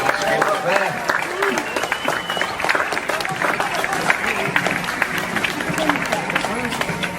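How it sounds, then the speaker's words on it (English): Museum crowd at the Leeds Royal Armouries applauding a javelin demonstration: steady, dense clapping from many hands throughout, with voices and crowd chatter mixed in. "Give him a round of applause for his javelin skills there."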